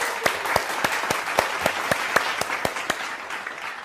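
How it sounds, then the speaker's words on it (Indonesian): Studio audience applause greeting arriving guests: a lively burst of many hands clapping with sharp rhythmic claps standing out, fairly close, without talk. "Tepuk tangan semuanya."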